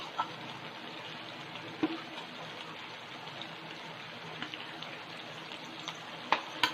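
Soya chilli with spices sizzles steadily in a frying pan as a spoon stirs it, the broad hiss broken by occasional scrapes and clinks of utensil against the pan.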